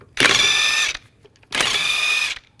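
A ratchet socket wrench with a 22mm socket works the rear wheel lug nuts on a 2010-2017 Chevrolet Equinox. Two loud, close bursts of rapid clicking ratcheting are each just under a second long, with a short pause between them.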